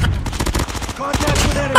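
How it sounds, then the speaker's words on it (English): A hostile sentry gun in Call of Duty Mobile fires loud, rapid automatic bursts close by, the rattling shots running almost continuously through the clip. "Hostile sentry gun in your AO."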